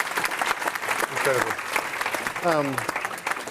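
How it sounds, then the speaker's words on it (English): Audience applause fills a panel discussion hall, steady broadband clapping throughout with a voice speaking over it. "Please give it a round of applause."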